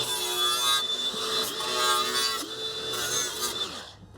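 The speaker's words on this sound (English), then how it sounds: "on this occasion we have a rotary wire brush on it, and we'll just take the crud off there" Rotary wire brush on a power tool scrubbing crud off a car's rear brake hub, a close, continuous whirring hum with a steady high whine and gritty scraping that surges in pulses and stops at the end.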